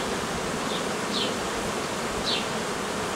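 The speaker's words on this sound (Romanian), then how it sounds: "lucrează albinuța pe această ramă" Honeybees working a brood frame of a hobbyist's hive give a steady, close, dense buzzing hum that runs the whole time, with a few brief louder passes of single bees flying by, and no voices.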